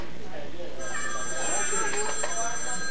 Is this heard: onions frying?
no